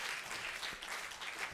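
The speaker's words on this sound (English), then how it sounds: "Hand of applause on that one right there" Faint applause from an audience at a design talk, a soft continuous patter of clapping heard from a distance.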